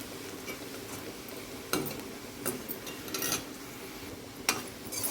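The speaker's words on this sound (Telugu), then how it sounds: "ఆనియన్స్ అయితే బాగా ఫ్రై అయిపోయాయి" Onions fry in a pan for a fish curry, a low steady sizzle close by with occasional spoon scrapes and clinks against the pan, no voices.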